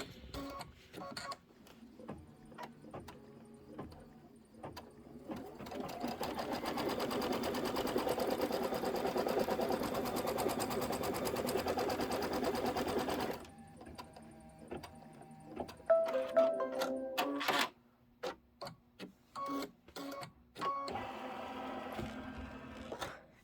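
A sewing machine stitches background filler quilting on a quilt block, running in a long steady buzzing burst, then stopping and restarting in short bursts with clicks and handling noises between.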